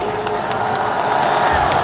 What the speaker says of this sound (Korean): 함께 박수를 부탁드립니다